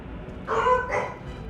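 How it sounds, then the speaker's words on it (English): Two quick barks from dogs in the video game Baldur's Gate 3, close and fairly loud against a quiet background hum. "Doggos are barking."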